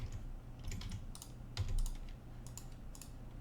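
Quiet, steady typing on a computer keyboard with soft rapid key clicks in uneven bursts, close but faint, with no talk.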